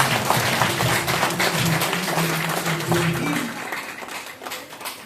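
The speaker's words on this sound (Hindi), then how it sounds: "एक बार तालियां बजा दो" An audience claps together in a dense, steady burst, many hands at once, with a voice and tonal sounds showing through midway before the clapping thins toward the end.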